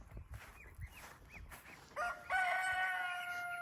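Geese honk nearby: a few soft calls first, then a louder burst of overlapping honks that carries on for a second or two.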